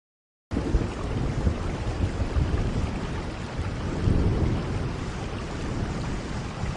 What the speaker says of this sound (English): We've got some thunder going on in the background